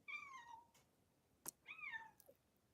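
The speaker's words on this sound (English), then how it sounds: "I think this cat is the same age as Rosie" A stray cat meows twice outdoors, each call rising and falling clearly and fairly close, with a sharp click between them and quiet surroundings.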